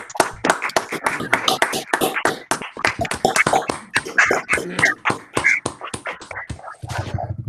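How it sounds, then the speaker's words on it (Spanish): A short round of hand clapping for a presenter named María at the end of her academic talk on the Tibetan conflict, sharp dense claps from a small audience, fading at the end. "Un aplauso para María."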